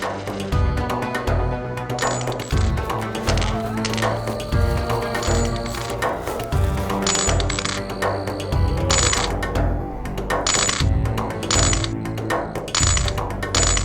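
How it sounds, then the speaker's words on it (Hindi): Coins jingling and clinking while being counted at night, with repeated metallic drops and clatters in an irregular rhythm, fairly loud and close, alone without talk. "मुझे रात को ये झनझन आवाज कहाँ से आ रही है आखिरकार?"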